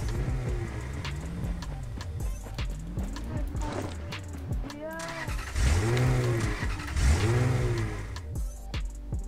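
Car engine in the Rules of Survival battle royale game, revving up and down in repeated swells with sweeping pitch changes, fairly close, under occasional game noise.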